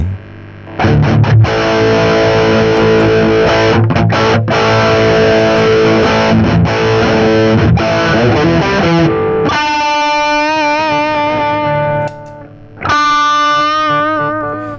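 Electric guitar through a Friedman BE-OD Deluxe overdrive pedal plays gritty chords and sustained notes, loud and close, with a brief drop before ringing notes return.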